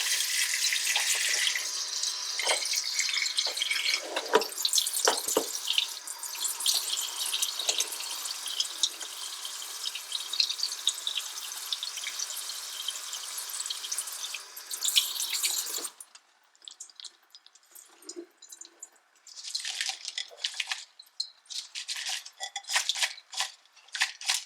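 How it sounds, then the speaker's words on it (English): Water is poured from a container onto dry, chunky soil in a potted plant, a steady broadband splashing and trickling that runs for about sixteen seconds, then gives way to scattered drips and small clinks. "I can go ahead and water this plant."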